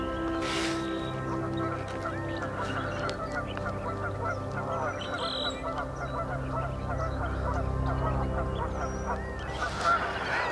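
A flock of geese honks repeatedly as it flies past, overlapping calls near and loud over a busy outdoor background with other birds chirping.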